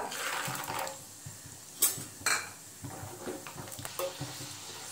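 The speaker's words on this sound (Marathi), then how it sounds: "इथे आपलं तेल गरम झालंय, त्यामध्ये आपण शेंगदाणे तळून घेऊया" Peanuts fry in hot oil as a tempering for Konkan-style dadpe pohe, a soft crackling sizzle broken by several loud metallic clinks and scrapes of a utensil against the pan.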